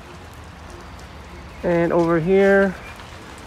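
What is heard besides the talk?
rain falling at Copenhagen Zoo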